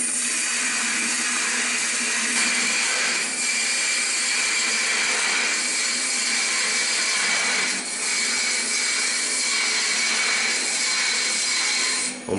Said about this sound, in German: Es geht butterweich zum Ausbohren, fahren wir ein bisschen rein.